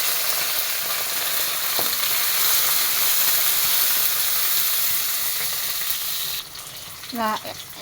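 Chillies and chopped small onions fry loudly in oil for a drumstick leaf curry, with a strong continuous sizzle up close that drops slightly near the end, followed by a brief stirring clatter.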